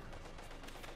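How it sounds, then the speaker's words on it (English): Pak 40 75mm anti-tank cannon firing in the strategy game Company of Heroes 2, heard as a brief, faint burst of distant battle gunfire amid a dense wash of combat noise. "Pack 40 lands a hit there with its 75mm cannon"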